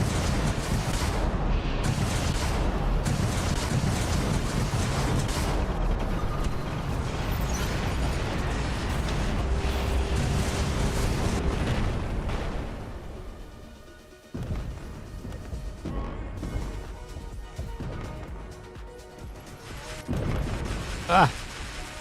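Rocket explosions and heavy combat blasts from the mech battle game War Robots, loud and dense for the first half, then sparser booms and crashes with a sharp burst near the end.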